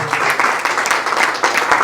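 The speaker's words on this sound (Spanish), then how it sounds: "Dale un fuerte aplauso al Señor" Church congregation gives loud, sustained applause to the Lord during a Spanish-language service, a dense, close clatter of many hands clapping with slight swells, no talking over it.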